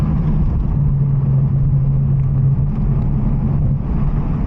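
A 500+ horsepower Toyota Supra engine rumbles with a steady low drone while driving through canyons, holding an even, loud tone with slight shifts in pitch.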